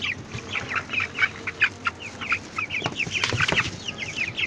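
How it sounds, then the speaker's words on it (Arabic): Chickens in a backyard coop cluck and chatter in quick, repeated bursts close by, a busy overlapping flock sound with some scuffling noise underneath and no speech. "وهنا اهوت الفراخ زي ما قلنا بقى"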